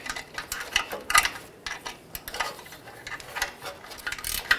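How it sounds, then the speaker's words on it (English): Flange bolts are tightened evenly one after another, heard as light metallic ticks and clicks of a wrench in irregular bursts, close and fairly quiet with no talk. "let's go ahead and tighten everything down. Now we want to go ahead and tighten down our bolts evenly."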